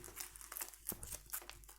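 Mage Knight board game cards being shuffled, a brief run of soft papery riffles and crinkly flicks close by, with small bursts spread across under two seconds.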